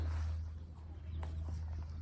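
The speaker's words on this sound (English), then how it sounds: "2 pileated woodpeckers here." Two pileated woodpeckers near Fontana Dam on the Appalachian Trail give a few brief, sharp calls that rise over a steady low hum in the background.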